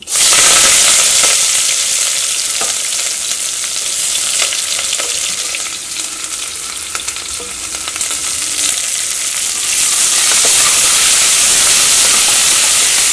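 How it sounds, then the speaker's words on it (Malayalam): Steady loud sizzling of onions with ginger and curry leaves sautéing in a hot pan, with occasional stirring scrapes, continuous throughout with no voices. "ഇതെല്ലാം കൂടിയിട്ട് നമുക്ക് നന്നായിട്ടൊന്ന് വഴറ്റിയെടുക്കാം."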